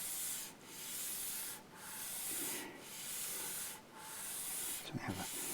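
Hand sanding of a guitar nut on a Martin Backpacker, four steady strokes of abrasive rubbing, close and alone, with a brief clatter at the end.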